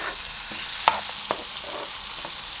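Tomatoes frying in cooking oil in a pan for spaghetti sauce, with a steady soft sizzle and a few sharp clinks of a utensil stirring against the pan.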